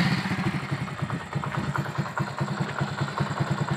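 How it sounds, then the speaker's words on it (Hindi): A Honda 70 motorcycle engine runs at a steady idle after starting, its rapid, even chugging close and continuous for the whole stretch with no talk over it. "आइए मैं आपको मोटरसाइकिल स्टार्ट करके बताता हूँ कि इसका फंक्शन क्या है"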